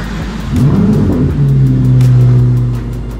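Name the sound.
sports car engine accelerating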